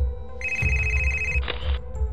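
A telephone rings with a steady electronic tone, shifting pitch partway through, over a low background hum in a police station setting; no talk.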